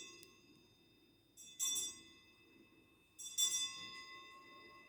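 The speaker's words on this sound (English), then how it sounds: "a ship's bell." Two bright metallic bell strikes about two seconds apart, each ringing out with a long, fading tone over a low, steady background rumble.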